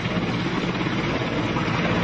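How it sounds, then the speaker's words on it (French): Helicopters wait for a Soyuz capsule landing, their rotors and engines making a dense, steady close roar with no break. "Les hélicoptères attendent le signal du départ."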